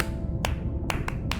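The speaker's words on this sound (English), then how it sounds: "Sperm whales make clicks in sort of rhythmic patterns that we call codas." Sharp, dry sperm whale coda clicks arrive in a short rhythmic 1+1+3 pattern over a low rumbling background: a single click, a pause, then a quick cluster.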